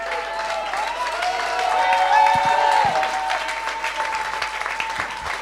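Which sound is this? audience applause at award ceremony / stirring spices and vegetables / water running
audience applause at award ceremony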